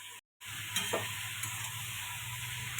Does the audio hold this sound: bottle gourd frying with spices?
yes